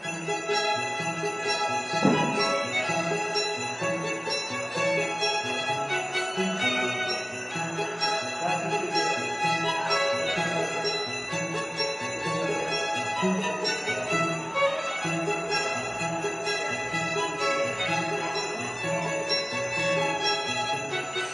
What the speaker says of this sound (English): Jingle bells is on.